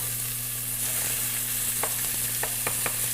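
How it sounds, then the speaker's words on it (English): Onions sautéing in a hot pan for ground beef tacos give a steady, close frying sizzle, with a few sharp scrapes and taps of a utensil stirring near the end. "Sauteing onions is just one of those small, beautiful things."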